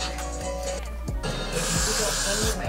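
A hissing can of Got2b hairspray bursts on in the second half, loud and close, after a stretch of quieter rustling and faint voices.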